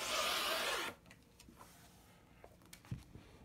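A rotary cutter slices a border strip of quilting fabric on a cutting mat, one loud continuous scraping cut lasting about a second, then quiet soft handling sounds of fabric and ruler.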